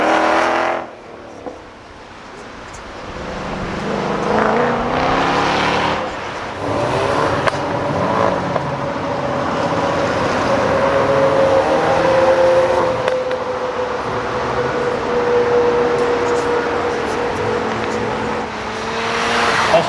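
Race cars on the track at the Carlisle Ford Nationals 2020, with engines roaring steadily as they brake hard into the curves and accelerate out, a loud continuous drone with pitch sweeps and a brief tire squeal.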